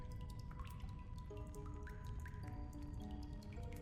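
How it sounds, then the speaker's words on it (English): Water dripping inside a pipe in the video game Darkside Detective, a rapid, quiet series of small drips and plinks over a soft watery background, with no voices. "Plenty of hot water running through that pipe"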